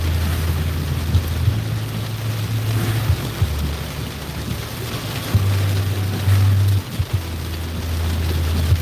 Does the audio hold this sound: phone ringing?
no